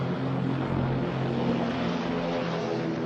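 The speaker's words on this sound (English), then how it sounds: "Planes are launched to respond to a threat in the area." WWII propeller fighter planes launch from an aircraft carrier, a steady close droning of piston engines and spinning propellers with a rough low rumble underneath, continuous and fairly loud with no voices.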